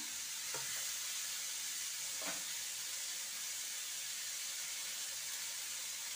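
Onions frying in a pan in a home kitchen, a constant even sizzle and hiss throughout with a couple of faint clinks of stirring.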